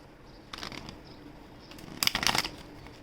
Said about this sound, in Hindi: ठीक है, एक और बार शफल कर लेती हूँ।